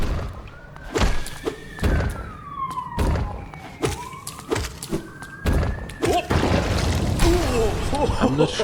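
A police car or ambulance siren wails at a distance in rising and falling sweeps, heard beneath repeated heavy thuds and knocks from the Hollow Knight game being played.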